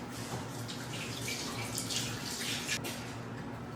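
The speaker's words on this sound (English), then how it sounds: "Let me rinse my hands really quick." Hands being rinsed under a running kitchen tap while baking snickerdoodle cookies, a steady close splashing rush of water with small irregular spatters and no speech.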